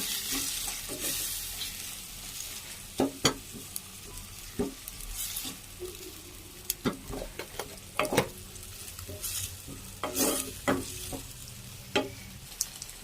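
Ginger garlic paste sizzles in a hot pan, with a spatula scraping and clicking irregularly over the steady frying hiss. No one speaks.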